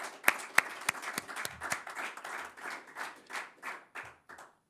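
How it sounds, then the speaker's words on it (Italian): At a festival, an audience applauds for Bortolo Carlotto, opening with a few sharp, close individual claps that grow into rhythmic group clapping and then taper off to silence. "Io farei un applauso, se mi permettete, a Bortolo."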